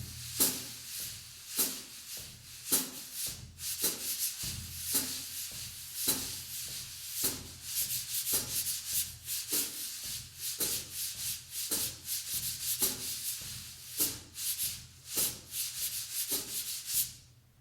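Sandpaper blocks rubbed together on a jazz drum kit, a steady rhythmic scratchy swishing with repeated strokes, close and moderately loud, playing alone without voices.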